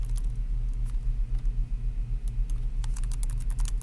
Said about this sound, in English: So let me just go ahead and type this in.